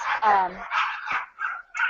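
A dog gives a couple of sharp, close barks followed by shorter yips and whimpering sounds, loud and brief.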